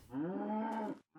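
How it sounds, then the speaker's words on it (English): A single drawn-out cow moo from the Minecraft video game, clear and close, followed by the start of another brief sound. "Cows."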